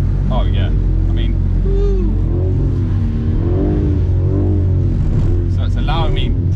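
A BMW on a track roars at full throttle, a loud continuous engine drone rising and falling with revs, while someone talks over it throughout.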